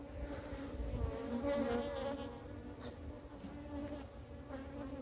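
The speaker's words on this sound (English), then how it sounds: "there is a decent amount of bees in here" Honeybees hum in an open hive from a swarm, a close, continuous drone with steady pitched tones and a brief louder swell near the start, no speech.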